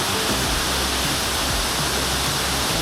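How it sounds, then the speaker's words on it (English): Steady, dense roar of water falling from 94 meters, loud and unbroken throughout, like standing close to a waterfall. "Just listen to the falling water."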